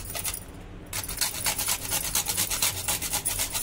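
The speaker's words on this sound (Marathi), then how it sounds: "त्यानंतर ही आपली जायफळ, वेलची पावडर आणि जायफळ किसून टाकू." Whole nutmeg grated by hand for a sweet potato puran poli filling, a steady close rasping scrape repeated in quick strokes, fairly loud and alone.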